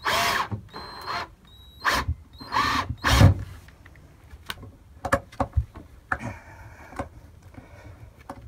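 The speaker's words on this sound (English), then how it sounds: "So now I can start drilling the next bit." A power drill whirs in several short bursts close by while building loft storage supports, followed by scattered clicks and taps of tools being handled.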